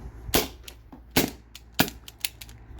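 A modified first-generation T4E TR50 CO2 pistol fires several sharp shots: three loud cracks evenly spaced, then a few quicker, fainter snaps, each close and percussive with no talk.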